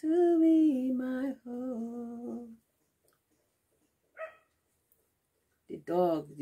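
A dog whines and cries in long, wavering tones after its owner drives away, with a brief yelp in a quiet pause and another whimpering burst at the end, close and clear with a voice nearby.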